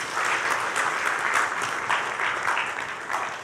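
Steady, dense applause from a large audience after Her Excellency Zainab Hawa Bangura finishes her speech, sustained and even throughout at a moderate distance.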